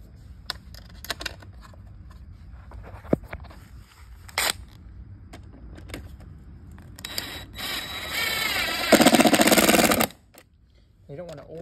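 A power drill drives screws into an exterior door threshold, with a loud, sustained motor whir that builds in the last few seconds after a quieter stretch of scattered handling noises.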